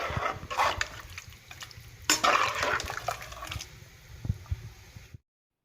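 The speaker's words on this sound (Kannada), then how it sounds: "ಈ ಥರ ನೀಟಾಗಿ ಎಲ್ಲ ಮಿಕ್ಸ್ ಮಾಡಬೇಕು ಅಕ್ಕಿ ಹಾಕ್ಬಿಟ್ಟು" Rice being stirred into boiling masala water in a pot for a wedding-style vegetable pulao, with wet scraping and sloshing strokes and light utensil clinks, loudest around the middle before fading out.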